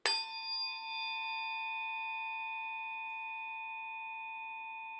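A tuning fork is struck once, then rings with a pure, steady tone that slowly fades, alone and close.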